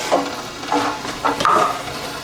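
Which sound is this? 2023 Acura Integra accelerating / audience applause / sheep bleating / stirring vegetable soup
stirring vegetable soup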